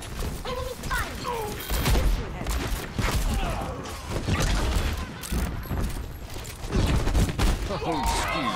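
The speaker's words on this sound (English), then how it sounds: "Enemy fire." Enemy gunfire rattles in a video game as rapid, dense bursts of shots and mechanical clatter, with steady loud firing throughout.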